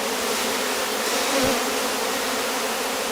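Honey bees cluster on a Rose hive box and hum in a dense, continuous buzz nearby, with one bee briefly passing closer.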